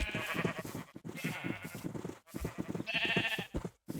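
Sheep in the video game UNKnown 2 bleat repeatedly in short, overlapping bursts, a loud and busy flock calling one after another with brief gaps between the cries.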